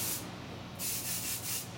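TIGI Rockaholic Dirty Secret dry shampoo is sprayed from an aerosol can onto hair in short, close, soft hissing bursts, three or four pulses over a quiet steady background.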